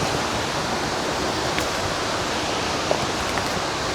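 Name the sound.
waterfall on an Alpine hiking trail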